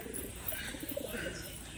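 Faint, soft cooing from a flock of domestic pigeons kept on a rooftop on a rainy day, a low steady murmur running continuously under a quiet background.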